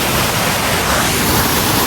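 Steady, loud broadband rush of water pouring down the Junani waterfall in Bargarh, a continuous dense roar with no breaks across the whole stretch.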